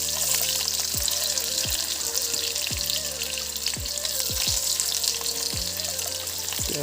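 Sliced onion frying in hot oil in a pan, a loud steady sizzle and crackle with occasional sharp pops, close by and without talk.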